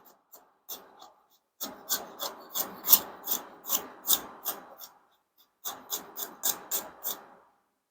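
A knife finely chops garlic on a cutting board for an Indian dal, making quick, rhythmic, close-up chopping strokes in two runs with a short pause between them and no talking.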